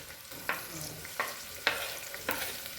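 Onions and curry leaves fry in a tempering for misal pav, a soft steady sizzle broken by four or five sharp stirring scrapes spaced about half a second apart, close by with no talking.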